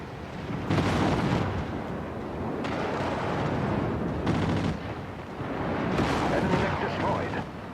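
MechWarrior 5 weapons fire and explosions erupt as an enemy mech is destroyed, with rolling bursts of heavy blasts and gunfire swelling and fading in repeated waves at loud, close range.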